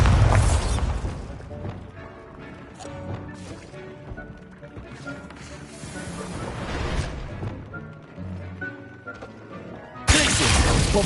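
The Bombarda spell explodes in Hogwarts Legacy as one heavy, booming blast at the start. A second sharp burst comes near the end, with quieter game clatter between them.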